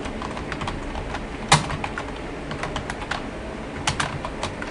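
Someone types on a computer keyboard in MS PowerPoint 2007, close clicking keystrokes in an uneven stream with a few louder single taps, over faint room noise and with no speech.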